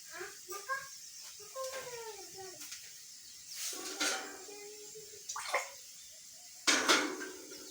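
Water sprinkled by hand into a pan of cooking leftover chapati pieces with turmeric, heard as a few short splashy bursts between stretches of a voice.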